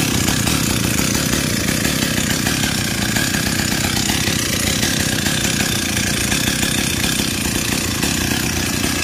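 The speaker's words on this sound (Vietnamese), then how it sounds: "Bây giờ mời cả nhà nghe tiếng máy nổ." A Stihl 028 AV chainsaw, 47cc, runs steadily on its own, a loud, close, continuous buzzing engine drone with no talk.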